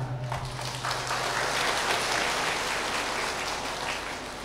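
An audience at a Buddhist sermon claps in a sustained, dense round of applause, steady and fairly loud, with a brief low hum at the start.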